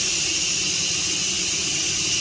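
Steam from a Thane Flavor Master 12-in-1 multi cooker hisses steadily and loudly from its release valve, one continuous, unbroken rush with nothing else heard.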